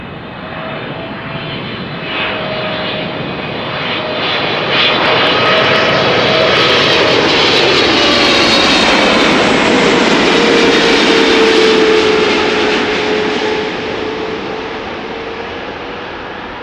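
Airliner arriving at Amsterdam Schiphol Airport, passing loud and close overhead: a steady jet roar that swells to a peak mid-pass with a gliding engine whine, then slowly fades away.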